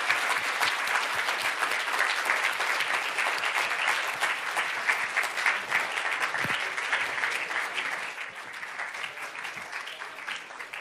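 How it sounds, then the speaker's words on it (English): Sustained audience applause for shortlisted authors at the Royal Society Prize for Science Books ceremony, a long, full hall-wide clapping that stays strong before gradually thinning and softening over the final seconds. "I'd like you to give a huge round of applause to our authors"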